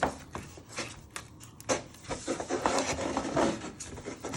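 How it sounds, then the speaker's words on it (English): Butter is rubbed around a baking tray for a caramel cake, giving close, irregular scraping and rubbing strokes of varying strength, with occasional sharper knocks of the tray. "you get a bit of butter and you want to rub it all around your baking tray"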